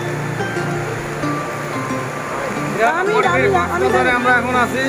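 Strong sea waves at Cox's Bazar beach wash and churn with a loud, constant surf roar beneath nearby voices and crowd chatter.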